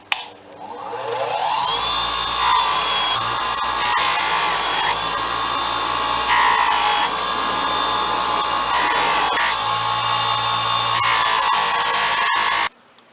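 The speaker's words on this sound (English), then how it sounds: "now these are all going to get their final polish, bring them up to a near mirror finish" A power polisher runs steadily, buffing dice to a near mirror finish, a continuous motor whine with a brief hum at the start and an abrupt stop near the end, with no talk.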